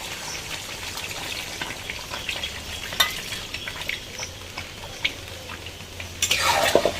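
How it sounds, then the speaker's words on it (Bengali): Mutton biryani masala sizzles in a pot over a clay stove, with light stirring clinks, then a sudden loud hissing rush near the end as water is poured in. "আমার এটা কষানো হয়ে গেছে, এইবার আমি এর মধ্যে জলটা ঢেলে দেবো।"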